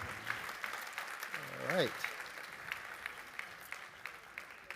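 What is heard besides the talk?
audience applause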